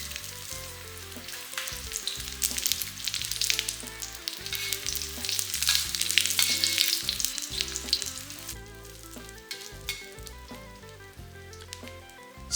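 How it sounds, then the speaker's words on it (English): Ginger sizzles steadily in hot oil for a pork stir fry, a loud continuous crackle and hiss with occasional stirring scrapes, close up and without talk. "when the oil is hot, add in your ginger"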